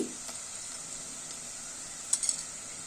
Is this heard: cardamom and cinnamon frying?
yes